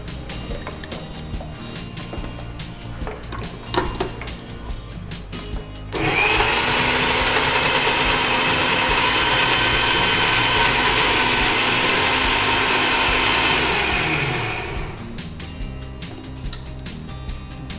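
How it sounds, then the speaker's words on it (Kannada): Mixer grinder blending palak (spinach) leaves dry with no water added, a loud steady whirring drone that starts abruptly, holds for about nine seconds and then winds down, with quieter kitchen sounds before and after. "ಸೊಪ್ಪು ಮಾತ್ರ ಗ್ರೈಂಡ್ ಮಾಡೋದು."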